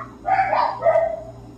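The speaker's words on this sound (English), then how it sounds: "Dogs too, why are they so noisy?" A pair of dog barks from outside, the first a longer yelping bark and the second shorter, moderately near over a low background hum.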